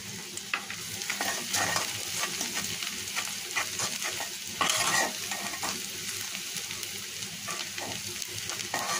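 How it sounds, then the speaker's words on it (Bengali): Chopped onion, garlic and whole cumin sizzle in mustard oil in a wok, with continuous stirring scrapes and crackling frying close by and no voices. "এখন ওই কড়াইতে সরিষার তেল দিয়ে দিয়েছি, পেঁয়াজ আর রসুন কুচি, আর এখানে দিব আমি একটু আস্ত জিরা"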